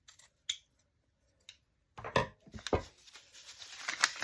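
Scissors snip through paper during a lace-and-tuck paper craft project, giving a few sharp, close cuts that grow into a busier run of crisp snipping and rustling, with no talking.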